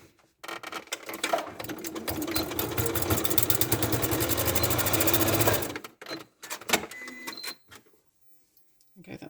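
A sewing machine stitches the back body onto a handmade fabric toy ladybird, running steadily for about five seconds with a fast rattling whir, then stopping, followed by a few clicks and handling knocks before silence.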